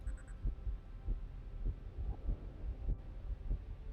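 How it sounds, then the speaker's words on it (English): A heartbeat sound effect in a Star Trek video game thumps in a slow, steady double-beat rhythm, low and muffled, alone apart from a few faint high beeps at the start. "That is a heartbeat."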